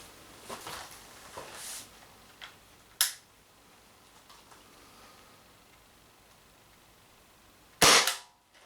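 Two sharp, crisp pops of an Umarex Impax P68 air pistol with power tuning firing, one small and one louder, separated by quiet with faint clicks in between.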